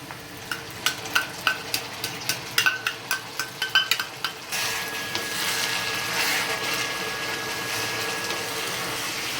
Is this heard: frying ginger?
yes